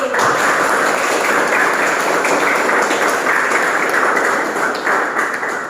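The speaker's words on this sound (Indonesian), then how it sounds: "Kita beri tepuk tangan yang luar biasa buat kegiatan kita hari ini." An audience at a school learning showcase claps together, producing a loud, dense, continuous burst of applause that runs throughout and tapers slightly at the end.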